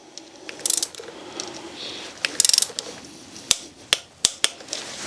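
A ratchet torque wrench tightens bolts on a Mini Cooper N14 engine being rebuilt, with close rapid clicking bursts followed by several sharp, separate clicks at the end.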